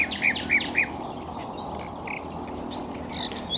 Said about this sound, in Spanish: es dueño de uno de los más hermosos cantos de las aves en la naturaleza